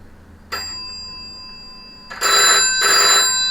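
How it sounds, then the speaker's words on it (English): An old-style telephone bell rings close by: a brief first jingle, then two longer metallic rings in quick succession, with no talking. "That one's ringing."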